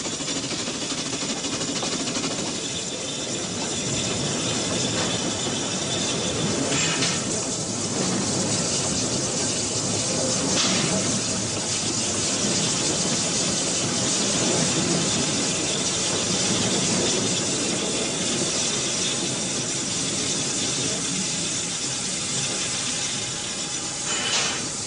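A narrow-gauge steam train runs through East Germany, a steady loud rumble and rattle of the carriages on the track with a constant chugging roar and no voices.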